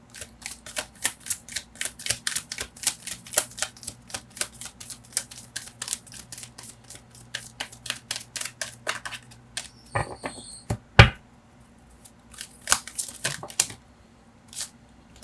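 Tarot cards are shuffled close up in quick, repeated riffling flutters. After a brief pause comes a sharp snap as a card is drawn, then more scattered card handling. No one speaks.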